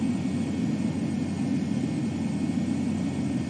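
A fighter jet in Ace Combat 7 approaches the runway for landing, producing a steady, loud, low roaring engine drone with no change over the short span.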